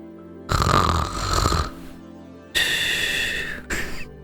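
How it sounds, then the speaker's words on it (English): A sleeping character snores in a game session, with two long rasping snores and a shorter third one separated by pauses, loud and close with no talk. "He's snoring."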